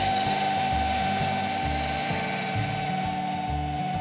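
A car polisher with its pad pressed flat on paint runs at 1200 RPM, a steady whirring motor drone with a rhythmic low pulsing from the pad, close and continuous.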